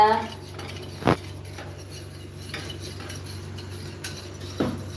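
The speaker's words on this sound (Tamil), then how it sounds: "ஆம்லேட் கலக்குறீங்களா" Eggs are whisked in a bowl for a pepper omelette, giving faint scraping and soft clinks of a utensil against the bowl, with a few sharper taps spaced out over a quiet, low background hum.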